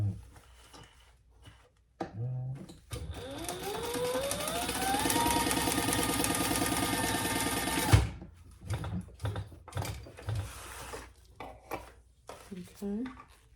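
A sewing machine stitches a seam with full seam allowance on a zippered sling bag, a steady whirring run of about five seconds with rising motor pitch, bracketed by fabric handling, clicks and shuffling before and after.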